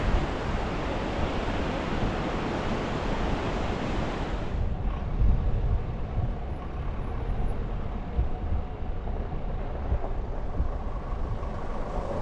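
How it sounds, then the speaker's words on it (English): Loud river rapids on Oregon's Deschutes River roar continuously, a dense broadband churn of rushing water, with no speech. "those rapids are really going through there."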